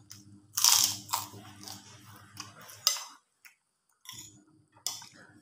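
Crunchy chewing of fried yellow tofu at breakfast, with several loud crisp bites close to the mouth and a short quiet gap, then more crunching.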